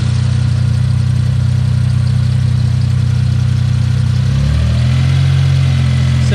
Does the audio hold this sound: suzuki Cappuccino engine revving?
yes